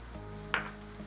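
Garlic and onion hit a hot pan with a sudden brief sizzle partway through, which settles into a softer hiss over a steady low kitchen hum. No one speaks.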